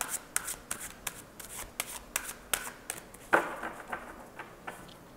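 Tarot cards are shuffled by hand in quick riffling bursts, a dozen or so crisp papery slaps and flutters in an uneven rhythm, close and clear.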